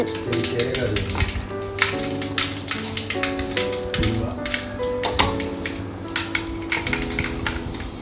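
Ingredients for a sardine curry fry in coconut oil in a pan, sizzling and crackling steadily with occasional stirring clatter, while a voice and tonal background sounds run intermittently beneath.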